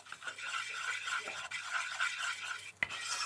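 A spoon stirs flour into a gravy base for roast beef, giving a steady close scraping and rubbing sound that continues throughout, with one sharp knock near the end.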